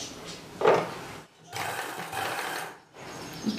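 A sewing machine stitches a blouse sleeve at the shoulder joint, with tucks held in place: two bursts of steady mechanical whirring separated by a short pause, close by and moderately loud, with no talking.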